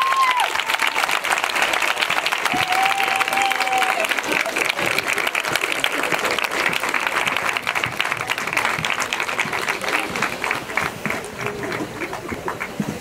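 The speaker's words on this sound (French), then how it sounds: "Moi je vous remercie en tout cas de vos applaudissements." An audience applauds at a fashion show, steady dense clapping from a large crowd that continues throughout at an even level, with a faint voice and tones heard briefly near the start.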